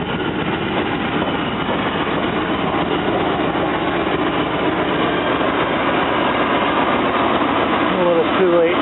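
A car engine idles steadily and loudly for the whole stretch during a differential reassembly, with a constant low rumble and a slight change near the end.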